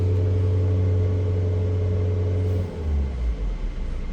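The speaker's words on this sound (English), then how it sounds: "If we hold the car up at sort of 3000 RPM" A Volvo V60 diesel with particulate filter and SCR faults holds a steady, loud idle-up drone at about 3000 RPM, then the engine note drops and wavers as the revs fall back near the end.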